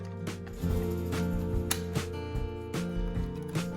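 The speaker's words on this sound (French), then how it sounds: "Il ne reste plus qu'à verrouiller de nouveau la brosse en remettant le plastique jaune." A Cecotec Rockstar 300 X-treme Ergoflex vacuum's brush head being locked back in place with its yellow plastic catch, giving a series of sharp plastic clicks and ratcheting snaps over a steady mechanical hum, close up.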